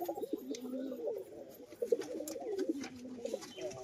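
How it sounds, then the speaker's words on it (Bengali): A Lotan pigeon coos in repeated low, throaty rolling phrases, close and fairly quiet, with a steady rhythm of bubbling calls over soft background noise. "এই যে লোটন পায়রার ডাক দেখুন"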